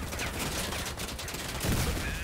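Rapid gunfire from the armored-vehicle combat game Crossout rattles in a dense, continuous burst of rounds. It is loud, close and unbroken, with no pause in the firing.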